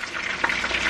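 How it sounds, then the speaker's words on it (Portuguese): A meat and cheese pastry fries in a pan with a moderate, steady crackling sizzle and a few brief louder pops, heard alone without talk. "Esse aqui é o de carne com queijo. Tô fritando ele."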